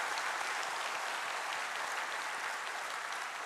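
A church congregation at a Sunday morning service at Gwangju Dongmyeong Church breaks into sustained, dense applause, steady and loud throughout with no voices standing out.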